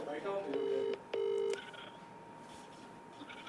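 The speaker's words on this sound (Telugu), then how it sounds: "రింగ్ అవుతుంది" A phone call's ringback tone rings out twice in steady, even bursts, a two-tone electronic purr, before the line goes quiet with faint background hiss.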